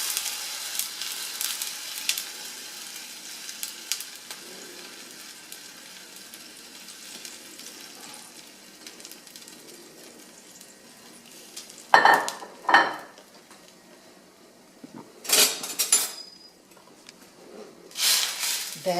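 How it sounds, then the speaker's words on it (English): Washed rice and dal fry with a soft, steady sizzle in a pot for khichdi, with several louder bursts of a spoon scraping and stirring against the metal toward the end. "And then we add our washed rice and dal."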